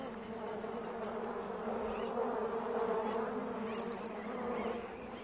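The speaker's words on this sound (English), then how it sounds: "She tries a pit, but finds it full of bees." Bees buzz in a dense, steady drone, a swarm humming together with occasional individual insects passing nearby.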